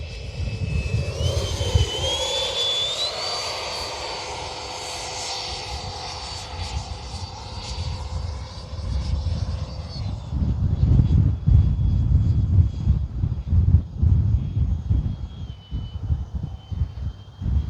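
A Freewing 90mm F-22 RC model jet whines overhead on a landing pass with gear up, its high turbine pitch rising as it passes, then fades into a steady distant hum over rumbling wind noise.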